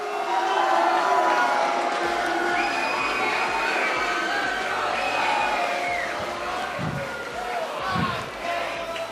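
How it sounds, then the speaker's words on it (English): An arena crowd at an esports grand final roars for the reigning champion team Mount Roskill, a dense, sustained wall of cheering and shouting that stays loud throughout, with a few sharp thumps near the end. "May you hear the crowd, obviously huge here"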